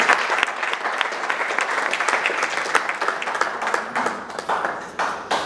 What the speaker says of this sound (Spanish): Le puedo dar un aplauso fuerte a nuestra Señora.